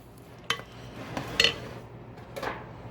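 An 8x8 aluminum cooking pan being handled in a home kitchen, giving three separate clanks and rattles of thin metal, moderately close, with a low background hum and no talking.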